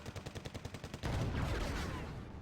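Anti-tank gun in the war strategy game Wargame Red Dragon fires a rapid burst of about a dozen sharp, evenly spaced shots like a machine gun, followed by a loud, sustained blast and rumble that slowly fades.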